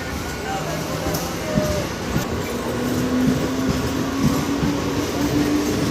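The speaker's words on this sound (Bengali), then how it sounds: "ট্রেনটা শুরু করে দিয়েছে" A local train pulls away, its steady rumble and rising tonal whine building as it gathers speed, with rhythmic wheel clicks on the rails and voices talking faintly in the background.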